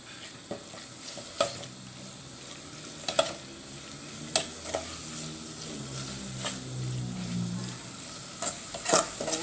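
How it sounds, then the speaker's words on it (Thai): Pork stir-frying and simmering in Thai panang curry paste in a pan: a steady close sizzle broken by repeated clinks and scrapes of a utensil stirring, with no voices. "ก็จะผัดเคี่ยวไปจนหมูสุกเลยค่ะทุกคน"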